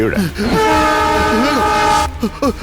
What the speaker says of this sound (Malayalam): ട്രെയിൻ വരുന്നു.